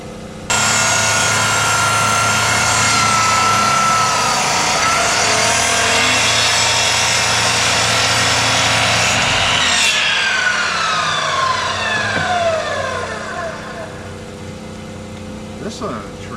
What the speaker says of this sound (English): We have an electric knife.